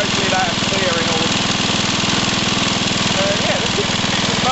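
A 1966 Briggs and Stratton lawn mower engine with an original wind-up starter runs loud and close, a steady rapid chugging with a rough, knocking beat, and a voice talks briefly over it.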